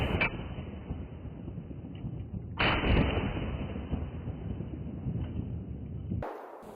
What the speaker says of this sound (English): Let me give you an example of each shooting my shotgun.